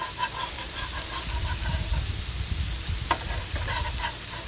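Smashburgers sizzle on a 17-inch Blackstone griddle at a campground, a constant close crackling fry with scrapes of a spatula on the steel cooktop and a low outdoor rumble beneath.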